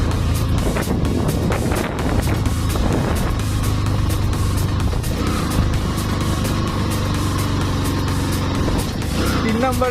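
A vehicle engine strains uphill in third gear on the road toward Keokradong, a loud, continuous drone with shifting pitch and wind buffeting, while a voice speaks briefly over it.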